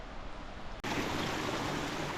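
Canal water fed from the Chandrabhaga river flows steadily in a continuous close rush, with a brief dip partway through before the flow resumes at full strength.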